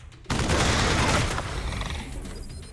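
Gunfire in the video game Wasteland 3: a sudden loud burst of rapid shots that rings out and slowly decays into a fading rumble, with a faint high electronic tone near the end.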